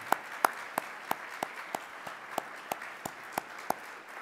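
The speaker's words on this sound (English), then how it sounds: "Let's give them a round of applause." Steady, evenly spaced hand claps ring out one after another at a brisk regular rhythm, fairly close, with no talking.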